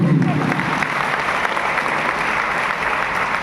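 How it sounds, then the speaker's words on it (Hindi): An audience at a wellness business seminar applauds in a dense, continuous burst of clapping that fills the whole stretch at a steady level. "जोरदार तालियां होनी चाहिए।"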